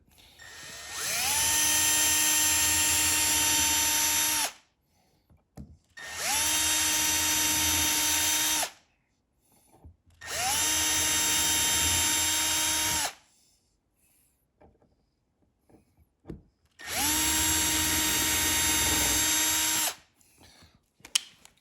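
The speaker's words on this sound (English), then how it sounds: "drilling myself some pilot holes with a 1/16 drill bit" An electric drill with a 1/16-inch bit drilling pilot holes in servo mounts whirs in four separate bursts of a few seconds each, spinning up to a steady high whine, with quiet pauses between.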